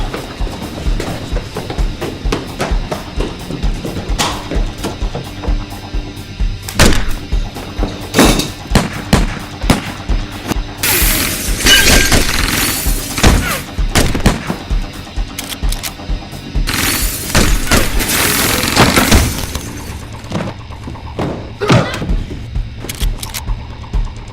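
Repeated gunshots crack out in irregular bursts, some close and sharp, with heavier volleys packed together midway before thinning out.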